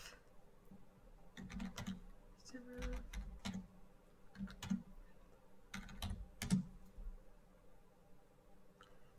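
Commands are typed on a computer keyboard as sparse clusters of soft, close key clicks with pauses between bursts, while a low hum sits quietly in the background.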